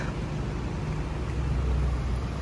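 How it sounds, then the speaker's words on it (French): A Porsche Carrera GT, a Ferrari Enzo and a McLaren SLR pass close by on a Paris street, making a loud, continuous engine roar with dense low rumble that fills the short moment. "La Carrara GT Enzo grise et McLaren SLR juste derrière"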